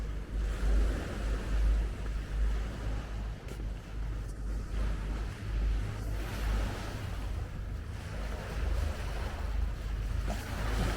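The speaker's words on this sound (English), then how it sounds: "That's a proper sandy beach, isn't it?" Small waves lap continuously on a sandy beach along the River Thames at Rotherhithe, a steady wash of water under gusts of wind against the microphone, with no voices.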